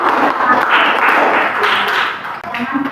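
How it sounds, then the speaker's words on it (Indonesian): Class of students clapping in an Indonesian school lesson, a dense, loud burst of many hands that fills the clip and then thins out toward the end. "tepuk tangan dulu"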